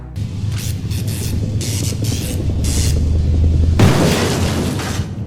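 An explosion blows a hole in a wall in the video game Alone in the Dark: The New Nightmare: a loud sustained roaring rumble builds and then breaks into a sharper crackling blast near the end.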